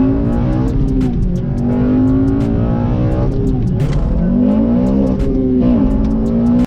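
An 8th-generation Honda Civic Si engine revs hard into VTEC and climbs in pitch, with the rising whine repeating several times as the throttle is pushed. It is loud, close and continuous.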